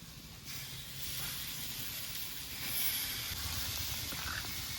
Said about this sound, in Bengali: আমার আলুগুলো লাল লাল করে ভাজা হয়ে গেছে এবার বাটা মশলাগুলো দিয়ে দেব